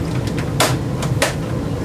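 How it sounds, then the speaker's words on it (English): Plastic tabs on the back of a Commodore Amiga 1200 top cover snapping into place: two sharp, close clicks about half a second apart, with fainter ticks of handling around them. "There's kind of some tabs around the back that you kind of snap into."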